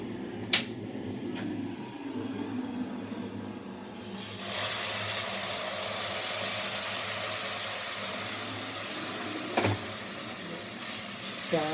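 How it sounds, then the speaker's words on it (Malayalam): Boiling water poured into a jar of ilumbi puli (bilimbi) pickle in a home kitchen, a steady broadband hissing pour that swells after a few seconds and runs on evenly to the end, with a few small clinks. "നമുക്ക് ആ തിളച്ച വെള്ളത്തിൽ കൊണ്ട് കുറച്ച് ഒഴിച്ചു കൊടുക്കാം."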